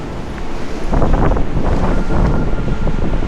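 Storm Eowyn's strong wind roaring outdoors through a Scottish town at night, a loud continuous rush buffeting the microphone with rising gusts and no talk.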